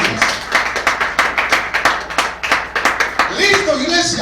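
A church congregation claps for Christ in loud, rhythmic unison beats, steady and close, with what sounds like a Spanish-language service carrying on around them. Near the end the claps blur into a denser wash with some voices and tones.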